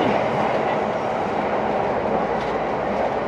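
A JR E217 series train on the Sobu Rapid and Yokosuka lines runs steadily, heard from inside the car as a continuous loud rumble with a faint rhythmic wheel clatter and no voices.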